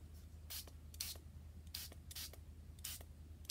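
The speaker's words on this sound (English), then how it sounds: "And I spritz it and then I'll dry it quickly" A small spray bottle gives several short, close hissing spritzes at uneven intervals over a quiet background hum.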